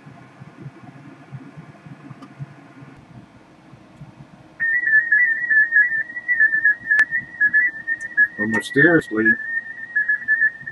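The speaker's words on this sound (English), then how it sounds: "You can hear it blasting in there now. That was a domino transmission right there." A DominoEX digital mode transmission received on the 20 meter amateur band comes in as a loud, steady tone with small stepping shifts, starting partway through over a background of receiver hiss and faint talk.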